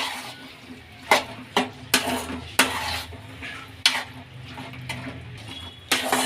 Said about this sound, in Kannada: ಈಗ ಬಾಯ್ಲ್ ಮಾಡ್ಕೊಂಡಿರೋ ಆಲೂಗಡ್ಡೆ ಸೇರಿಸ್ಕೊಳ್ಳೋಣ ಎಲ್ಲ ಮಿಕ್ಸ್ ಮಾಡ್ಕೊಳ್ಳೋಣ